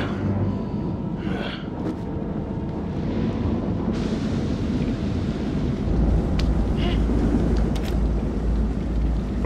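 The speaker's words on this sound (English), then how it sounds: "Find out how long the storm is gonna last." Thunderstorm in the horror video game Man of Medan, a steady roar of rain and wind with low rumbling thunder swelling loudly in the second half, no talking.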